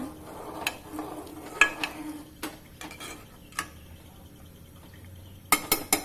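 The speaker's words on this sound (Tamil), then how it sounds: "நல்லா கிண்டுங்க." A spoon stirs washed rice into urad dal in a cooking pot, giving sharp metallic clinks and scrapes at irregular intervals, close and clear over a quiet kitchen background.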